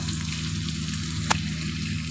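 Spices frying with onions in a pan while cooking sabz turai, a steady close sizzle throughout with one brief sharp crackle near the middle and no talk.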